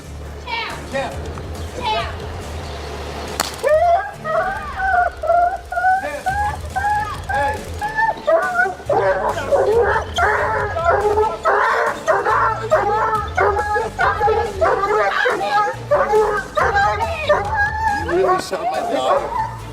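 A dog barks and yips repeatedly at police officers during an encounter, loud and close, with excited children's voices and other speech mixed throughout.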